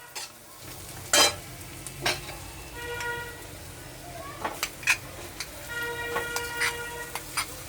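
Filling for Bihari singhara is stirred with spices in a pan, giving a low sizzle with intermittent spatula scrapes and knocks, while brief tonal beeps like a distant horn sound in the background.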